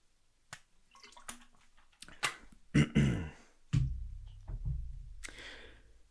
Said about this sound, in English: Sorry, guys, I gotta drink water.